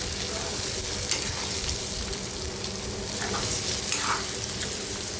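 Egg curry masala roasts in hot oil while a spatula stirs it, a continuous close sizzle with soft scraping and shuffling throughout and no voices.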